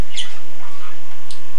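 Birds in a home setting give a couple of sharp squawking chirps, one early and one near the end, loud and close over a constant background hiss, with no talk.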